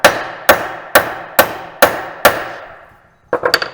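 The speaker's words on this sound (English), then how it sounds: "smack that socket down in there." Six sharp, evenly spaced metallic hammer blows drive a T27 socket onto a stripped bolt during a clutch kit install, each ringing briefly, then a quick cluster of lighter clinks as the tool is handled.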